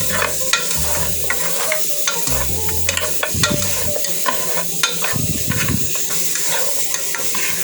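Pork rib bones tossed with seasoning paste in a hot pan, giving a steady loud sizzle with repeated scraping stirs and clinks throughout.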